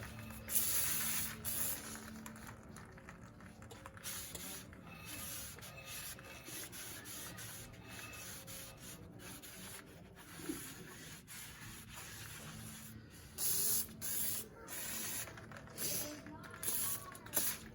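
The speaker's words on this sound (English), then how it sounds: "Shot a brake cleaner." Bursts of brake cleaner spray hissing in short blasts while working on a 2011 Sprinter's brakes, over a noisy workshop background with rubbing and clanking, loud and close.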